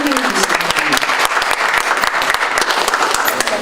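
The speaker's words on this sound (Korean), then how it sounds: "큰 박수로 환영해 주시기" Audience applause fills a Korean launch ceremony for a 2017 presidential campaign jobs committee as a committee member is introduced, with dense, steady clapping throughout and a host's voice briefly over it.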